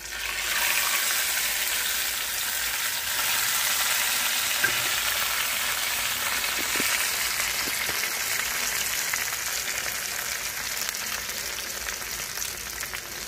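A tempering of spices crackling in hot oil, poured over kadambam, a South Indian mixed vegetable and rice offering: a steady, close hiss of sizzling that lasts the whole stretch with a few small pops.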